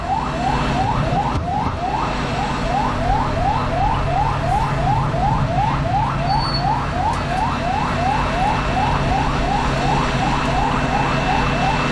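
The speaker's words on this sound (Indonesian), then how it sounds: "Kita dapat menyaksikan saat ini di depan kita ambulans sedang bergerak menuju dekat dengan pesawat." An ambulance siren wails in a fast repeating up-sweep pattern, steady and fairly close, with a low engine rumble underneath, as it moves toward an aircraft at an airport.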